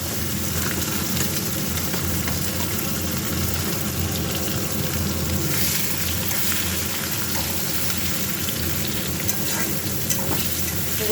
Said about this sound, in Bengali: গোটা গরম মশলা, তেজপাতা ফোড়ন দিয়ে তারপর পেঁয়াজগুলো দিয়ে দিলাম।